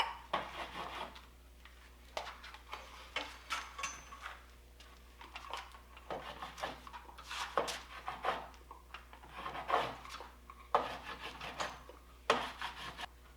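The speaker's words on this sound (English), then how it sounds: "hold the corner of the iron over the base of your ski and use the wax, touch it to the iron, and crayon it on" A block of glide wax is crayoned onto a hot iron held over a cross-country ski base, producing steady close rubbing and scraping strokes in uneven bursts, fairly quiet, with no voices.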